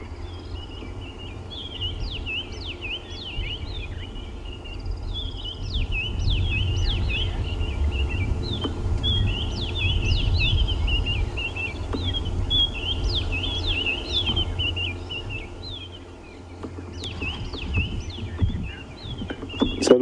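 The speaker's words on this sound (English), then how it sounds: "who's listening to all the bird calls around us at the moment" Birds calling at sunrise on an African safari game drive: repeated high, quick chirping phrases, some nearer and some farther off, run steadily over a low rumble of vehicle or wind noise.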